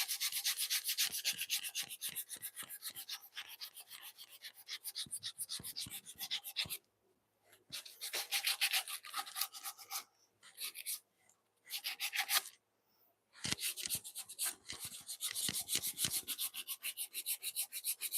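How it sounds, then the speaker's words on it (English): Hand sanding on a wooden bunk bed part to smooth a notch: rapid, scratchy back-and-forth strokes, close and fairly loud, in several sustained bursts separated by short pauses. "Let me sand that a little bit so that smooth over that little notch."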